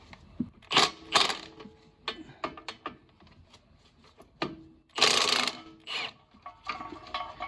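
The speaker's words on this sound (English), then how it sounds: "I'm going to go ahead and undo these bolts here that hold the strut onto the knuckle" A ratchet works loose 19mm strut-to-knuckle bolts on a 2007 Honda Fit, giving irregular clicking runs and knocks with a louder rasping burst midway, close-up and with no voices.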